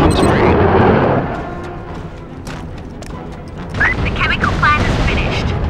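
In the video game Mercenaries, a powerful laser-targeted bomb destroys a building, with a loud rumbling blast and crashing debris. Someone talks over the explosion throughout.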